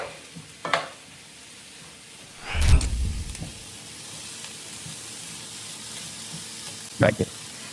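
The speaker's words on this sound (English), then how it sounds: "I'm just going to stir those up." Food fries in a pan during burrito bowl meal prep, a soft background sizzle broken by a few loud scraping bursts as it is stirred, with no talking.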